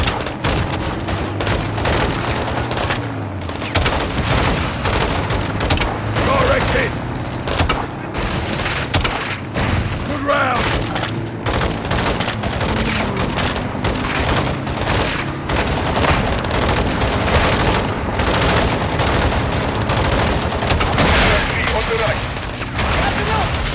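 A Modern Warfare II firefight in El Sin Nombre brings dense, continuous gunfire with bursts of automatic fire and booming launcher explosions throughout, loud and close, with voices shouting in between.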